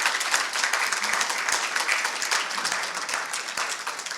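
An audience applauds at the opening round table of an academic conference on foliation theory and algebraic geometry, a dense, steady patter of clapping that stays even throughout with no talk.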